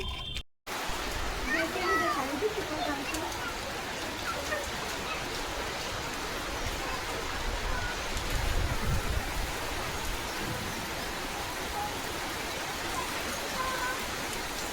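Rain falls in a steady broadband hiss, with a voice and other talk rising over it at moments while the shower keeps an even, moderate level underneath.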